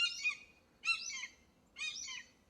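A hawk perched in a tree near a summer garden gives three drawn-out, high, strained calls at even intervals, clear and moderately distant, with no voices over them.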